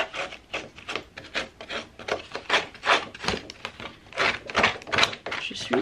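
Rasping scrapes of a paper edge being distressed for a baby scrapbook album, irregular quick strokes close up, with a voice faintly mixed in between.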